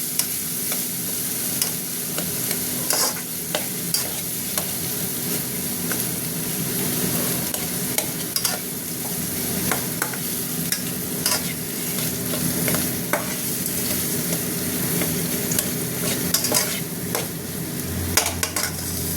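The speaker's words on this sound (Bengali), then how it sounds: "সবজিগুলো কিছুক্ষণ ভাজা ভাজা হবে" Vegetables frying in a pan over a lowered gas flame, a steady loud sizzle throughout with frequent scraping clicks of a spoon stirring them, no voices.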